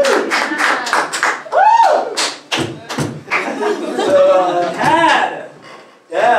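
Loud bursts of audience clapping mixed with laughter and a presenter's voice at a live comedy panel show, the crowd applauding to vote for a contestant, with thumping hits and chuckles overlapping the talk.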